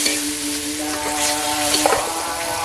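Water goes into a pan of hot fried spice paste for a fish curry, making a steady hiss and bubbling sizzle, with a few soft splashes and stirring sounds close by.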